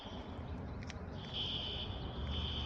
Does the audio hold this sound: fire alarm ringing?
yes